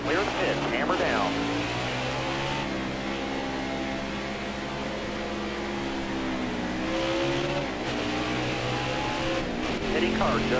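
A race truck on the World Wide Technology Raceway circuit pulls out of the pits under hard acceleration, its engine a loud, steady, close drone with rising and falling pitch through the whole stretch.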